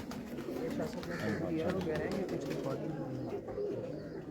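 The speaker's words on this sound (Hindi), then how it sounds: "ये देखें, ये जो है ना मोती कलदुम्बा कबूतर है बेसिकली" Moti Kaldumba pigeons of the pure Pakpattan breed coo in low, repeated murmurs, close by and fairly quiet, with other birds and faint voices in the background.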